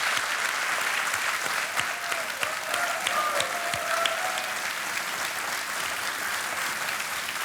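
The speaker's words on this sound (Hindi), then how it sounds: "तालियां बजनी चाहिए इनके लिए" Studio audience on a Kaun Banega Crorepati game show set applauds for a contestant, steady dense clapping filling the whole stretch with no voices over it.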